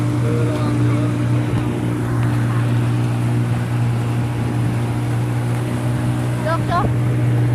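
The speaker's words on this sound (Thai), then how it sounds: "ตอนนี้เรากำลังจะนั่งเรือไปชมดอกบัวแดง" A motorboat engine drones steadily and close on a boat trip across the red lotus lake at Nong I Tue, Yang Talat, Kalasin, with a constant low hum and brief voices near the end.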